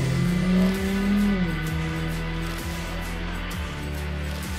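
A rally raid car on Toyo Open Country R/T rugged-terrain tires drives past close and loud, its engine revving with a rising and falling pitch and shifting gears over a steady road roar.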